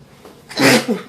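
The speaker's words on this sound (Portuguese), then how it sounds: "Desculpe, espirro." A single loud, close sneeze bursts out after a brief quiet intake of breath.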